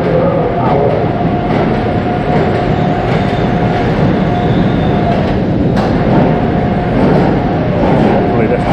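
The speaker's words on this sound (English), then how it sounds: "Hopefully this train's going to work" Amusement park ride train at Busch Gardens Tampa rolling along, a loud steady rumble with rail clatter and faint squeals, continuous throughout, with voices audible underneath.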